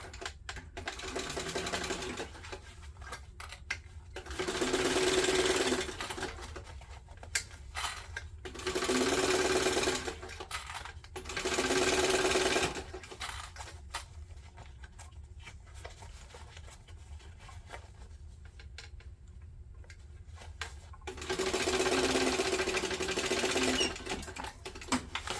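A sewing machine stitches a backpack seam in four steady bursts of rapid mechanical whirring, each a few seconds long, with quiet pauses between runs.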